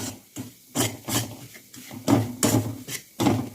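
Spoon scraping and rubbing through semolina and gram flour roasting in ghee in a pan for churma laddu, a series of close, rhythmic rasping strokes with short pauses between them.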